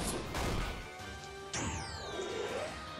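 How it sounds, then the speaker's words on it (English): A video game enemy's armor shatters in a sharp crash, followed by a falling whistling tone and swishing effects over background game music. "There goes with his armor shattering."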